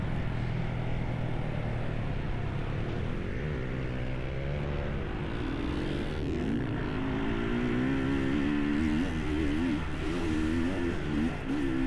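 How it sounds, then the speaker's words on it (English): Racing motorcycle engine heard from a distance as the rider lets off the throttle, a steady droning whine that shifts pitch and wavers while the revs drop, continuous and moderately loud with no speech. "Right there you see he's letting go the throttle."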